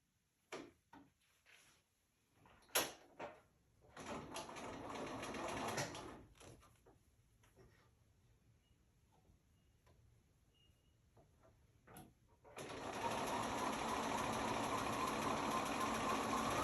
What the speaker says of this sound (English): I'll go across, sew that on.